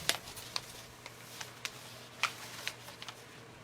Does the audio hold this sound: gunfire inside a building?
no